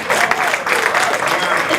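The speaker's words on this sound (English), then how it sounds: "Give them a round of applause." Studio audience applauding steadily at a candy shop event in Hollywood, dense clapping with some voices mixed in, close and fairly loud throughout.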